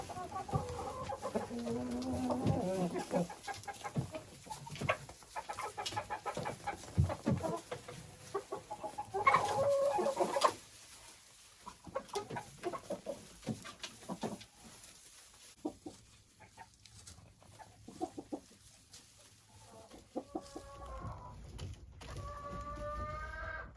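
Hens cluck steadily around a hopper feeder with grass, with soft layered calls throughout, a louder burst near the middle and a few clearer, higher calls toward the end.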